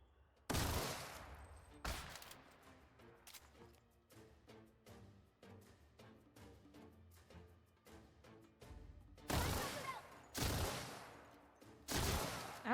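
Gunfire in The Outer Worlds video game, with sharp loud bursts at the start and several more near the end, separated by a busy stretch of quick, rapid shots at a lower level.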